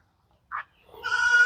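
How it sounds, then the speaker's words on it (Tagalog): Goats on a farm bleat: one short call, then a louder, longer bleat that carries to the end, fairly close and with no one talking. "Dito yung ibang kambing, oh."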